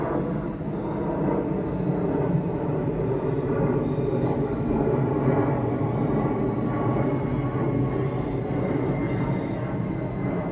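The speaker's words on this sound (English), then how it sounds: "What I'm not digging is how many airplanes are going past me now that I've decided to record." Airplanes passing overhead: a steady, broad roar that holds at a constant level throughout, with no talking.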